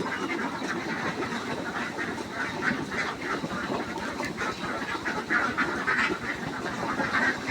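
Many ducks quack and clamor continuously while eating feed of paddy rice and wheat bran, a dense, busy chorus of overlapping quacks with feeding commotion throughout, fairly close and steady.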